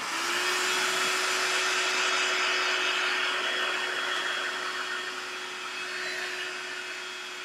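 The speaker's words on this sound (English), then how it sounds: "I'm just going to hit this with a heat gun just for 2 seconds because this acrylic needs to dry a little bit more." A heat gun blows over wet acrylic paint, giving a steady, close, loud whirring hiss with a constant motor hum that runs unbroken throughout.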